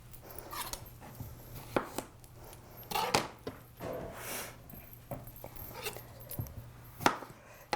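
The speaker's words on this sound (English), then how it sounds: "I'm going to do some really thin slices of a cucumber" Knife thinly slicing a cucumber on a cutting board, a series of crisp, close taps coming at uneven intervals over a low, steady background hum.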